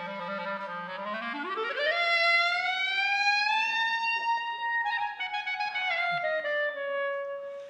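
A clarinet sweeping in one continuous glissando from a low note up to a high register and holding a bright, sustained tone, close and alone with no talk.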